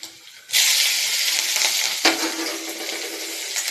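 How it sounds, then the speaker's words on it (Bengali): Green chillies and black cumin fry in a pan with a loud, steady sizzle that starts abruptly after a quiet moment, with a brief clatter of stirring midway and no talk. "এবার এটাকে ভালো করে নাড়াচাড়া করে লঙ্কাটাকে বেশ ভেজে নেব।"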